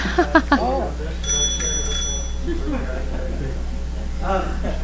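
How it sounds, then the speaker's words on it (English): Three quick bright rings of a bike-share bicycle bell, fairly close, between stretches of a person talking at a city council meeting. "It does have a bell."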